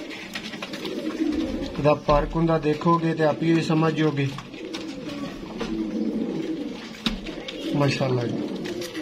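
Pet high-flying pigeons coo close by in a run of soft, throaty, repeated calls, with scattered coos later, while someone talks over them.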